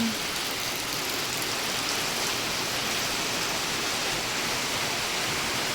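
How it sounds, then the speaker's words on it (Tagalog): Heavy rain pouring down at night in a steady, dense hiss that fills the whole stretch without pause. "May ulan friendship ngayong gabi."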